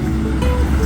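A West Virginia river running high after rising water, a steady broadband rush of flowing current filling the scene, loud and close with no voices.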